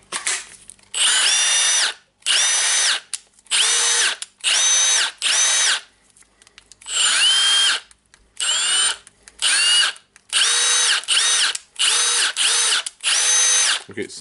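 A Milwaukee M18 FID2 cordless impact driver with weak power, just cleaned and reassembled, runs in about ten loud, steady whirring bursts of one to two seconds each, separated by short pauses, with no speech.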